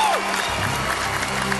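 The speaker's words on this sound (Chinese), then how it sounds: "第二次站起来鼓掌。" An audience at a televised singing competition stands and applauds, a steady wash of clapping that fills the whole moment, with a brief voice and a gliding tone at the start.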